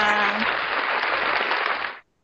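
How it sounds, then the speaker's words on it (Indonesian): Applause from a small audience at a school discussion podcast, a dense steady clatter of clapping hands that holds for about two seconds, then stops abruptly. "Kita kasih tepuk tangan dulu biar rame."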